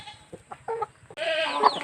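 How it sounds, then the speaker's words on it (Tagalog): A chicken clucks in a few short, quiet notes, then breaks into a louder, drawn-out squawk, fairly close. "Asa man tong manok ang green, Jumar?"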